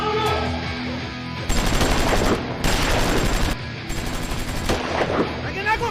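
Automatic gunfire rattles in three rapid bursts during a film scene, loud and close, with quieter voices and scene noise in the gaps between volleys.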